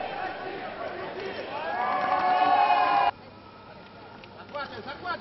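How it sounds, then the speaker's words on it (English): A small crowd cheers and claps steadily at a women's fencing bout during a modern pentathlon world championship, with a commentator talking over the noise before it drops away to a quieter hum. "the crowd who are here cheering away, the coaches loving that"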